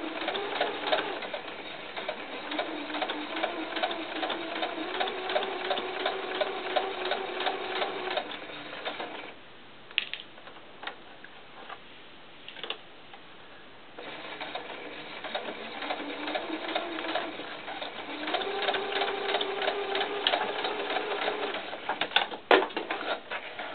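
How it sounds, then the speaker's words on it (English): A sewing machine stitches a curved seam on a small doll coat, running in two long steady bursts with a brief pause and a few soft clicks and handling noises between them. "You only want to sew that one seam"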